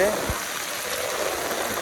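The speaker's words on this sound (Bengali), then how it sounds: "অনেক অনেক অনেক জোরে বৃষ্টি হচ্ছে" Torrential rain pours down during a fishing outing, a steady, dense wash of falling water that stays evenly loud throughout.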